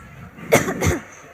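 A man coughs twice in quick succession, two short harsh bursts close to the microphone, during a comedy skit set in a doctor's clinic.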